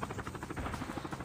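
In the mobile shooter Call of Duty Mobile, during a battle royale squad match, a helicopter's rotor thumps in a rapid, steady rhythm, fairly close and loud, for a brief moment.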